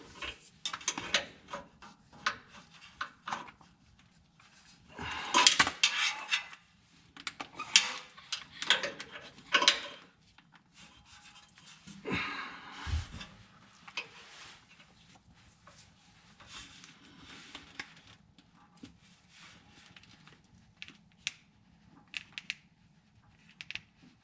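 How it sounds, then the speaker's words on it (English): Grease gun pumped in repeated clicking, ratcheting strokes while lubing the driveshaft of a fifth-generation Toyota 4Runner, close and fairly loud in irregular bursts with quiet gaps between. "Grease gun."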